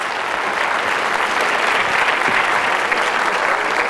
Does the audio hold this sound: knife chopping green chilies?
no